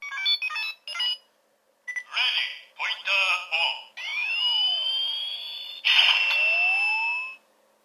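Electronic chirps, a rising whine and short spoken-style toy voice phrases from a DX Faiz Phone X toy gun from Kamen Rider Zi-O, set to gun mode, in several bursts ending in a sustained bright tone, loud and close.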